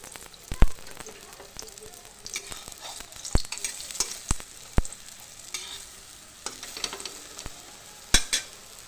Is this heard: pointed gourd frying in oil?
yes